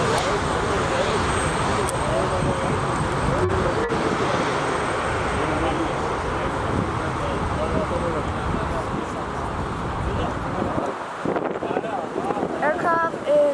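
A jet airliner taxis towards the runway at Frankfurt Airport, its engines giving a continuous loud rumbling roar with wind noise across the microphone, and a voice talks over it throughout.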